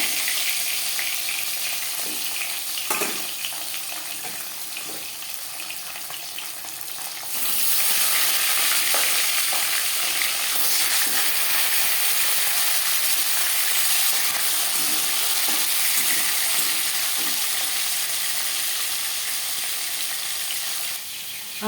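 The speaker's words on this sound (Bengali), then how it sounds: "4 চামচ রিফাইন্ড অয়েল গরম করে নিয়েছি। এবার দিয়ে দেব ম্যারিনেট করে রাখা মাছ।" Marinated tilapia hits hot refined oil in a pan: a quiet stretch of faint kitchen clatter, then a sudden loud, hissing sizzle that bursts in and keeps crackling steadily, close and constant.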